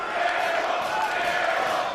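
Wrestling arena crowd cheering and chanting at ROH/NJPW Global Wars, a dense sustained roar of many voices with a steady tone, loud and continuous throughout.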